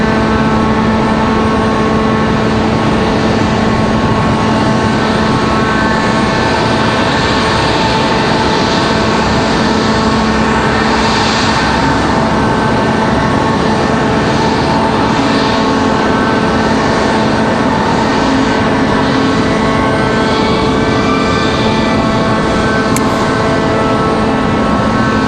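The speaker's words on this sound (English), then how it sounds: "So Air Canada and that CRJ waiting for their spot." Air Canada CRJ regional jet idling behind the terminal at Raleigh-Durham International Airport, a steady close engine drone with a constant low hum and high whine holding evenly throughout, no voices.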